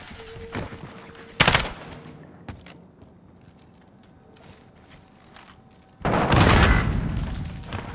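Gunshots from Modern Warfare played on PC. A sharp crack comes early, followed by a few mechanical clicks and softer knocks, then a longer, loud booming burst near the end.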